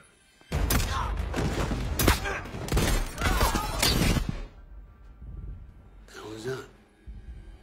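Bursts of rapid gunfire crackle and thud for several seconds, loud and close, then fade, followed by a shorter burst in the distance, in a film action scene.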